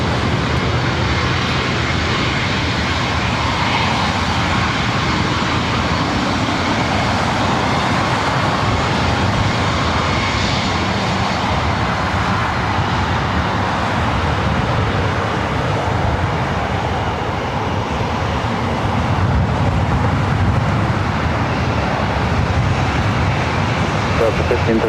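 A 20-year-old Airbus A320 airliner at LAX airport, a steady loud engine roar that holds for the whole stretch, broad and distant-sounding.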